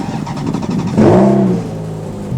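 A Ferrari sports car engine with automatic transmission revs up sharply, its pitch rising then falling back to a steady idle rumble, close and loud.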